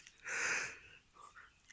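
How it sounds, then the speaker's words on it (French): A single close, soft sneeze from a man working in a garden among rose beds, quick and breathy, followed by faint breathing. "Eh bien si, j'ai éternué, pardon."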